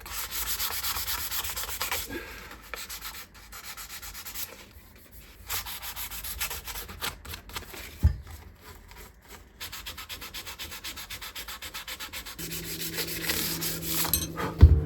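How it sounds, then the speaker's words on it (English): A tool scrapes leftover super glue off a custom guitar assembled from spare parts, making continuous close, rasping strokes that pause briefly now and then, with a louder scrape near the end and no voices. "I'm just scraping off any residual super glue here"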